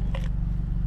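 A safari park animal is fed by hand in the rainy season and gives one brief, close, crisp crunch as it bites the food, with the sound then fading to background rumble.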